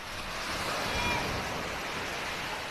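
Sea waves wash onto Boracay's Station 2 beachfront on a windy day, a steady broadband surf roar with wind buffeting throughout, fairly close and continuous.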